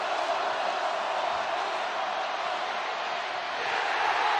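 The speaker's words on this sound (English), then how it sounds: "And Georgia does it. And the crowd loves it." Georgia Bulldogs home crowd at a college football stadium during a game against Missouri, a steady, broad roar of cheering that stays loud and unbroken throughout, with no voices standing out.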